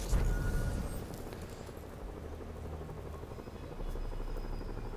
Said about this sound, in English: you do see the helicopters